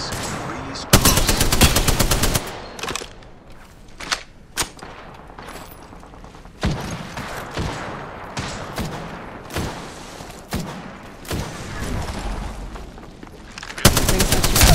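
Rapid automatic gunfire in the battle royale shooter Apex Legends comes in loud bursts and long sustained volleys, with sharp single shots and short pauses between strings of fire, and no talk over it.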